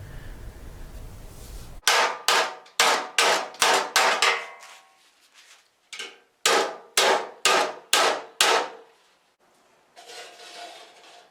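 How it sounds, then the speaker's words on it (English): A hammer strikes sheet metal against a dolly in two quick rhythmic bursts of about half a dozen sharp, ringing blows each, close and loud with short pauses between, shaping a 1913 Ford Model T body panel. "I've also gone over with a hammer and a dolly and sharpened up the creases"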